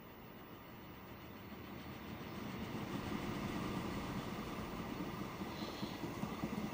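A video game train in Transport Fever 2 rumbles along steadily, its low rolling noise growing slightly louder and then holding, with no voices.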